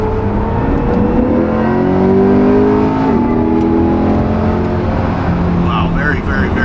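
A Chevrolet C8 Corvette E-Ray engine comes to life and pulls away, its rising, sweeping engine tones climbing under a voice as the car accelerates.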